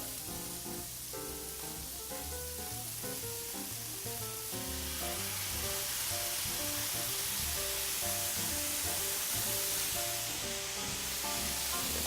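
Steaks topped with a dollop of marinade frying in a pan alongside mushrooms, a steady close sizzle that grows louder partway through, with background music playing throughout.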